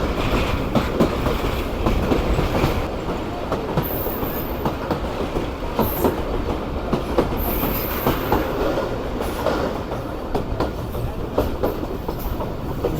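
A crowded Subak Raftar railcar rolls along the rails near Jhelum, giving a steady loud rumble with repeated clickety-clack wheel beats and brief high squeals of the wheels.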